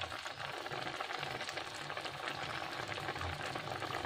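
Vadiyalu gravy curry made with black urad dal simmers steadily in a pot, bubbling and gently sizzling in a continuous close, quiet wash.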